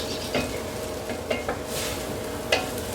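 Minced ginger and garlic sauté in a pan for a West African chicken stew, with a steady sizzle throughout and a few sharp scrapes and knocks of a utensil stirring against the pan.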